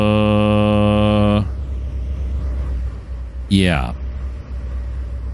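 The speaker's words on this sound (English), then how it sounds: "I hear something running over here. What is that? Is that a truck right there?" A truck idles in the Trainz 2019 railway game as a low, steady engine rumble that carries on after a brief harmonic drone cuts out, with a person speaking briefly over it.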